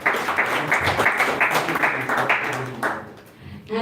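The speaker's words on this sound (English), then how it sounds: "give her another round of applause" An audience at a devotional evening gathering claps warmly, a few seconds of moderately loud, fairly even applause that thins out and fades toward the end.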